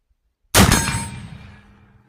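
A single loud, sharp gunshot from a .45-90 No. 1 Rolling Block rifle fired offhand outdoors, cracking suddenly after silence and ringing out in a long decaying tail.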